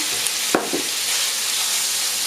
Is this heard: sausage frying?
yes